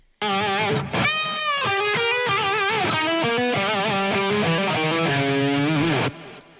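A distorted electric guitar plays a melodic lead line, its notes trailed by quarter-note delay echoes that repeat in time.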